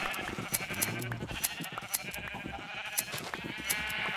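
Sheep in Minecraft bleat repeatedly in short, close calls over a busy game background of steady hum and clicks.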